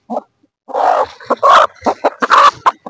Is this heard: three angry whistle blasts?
no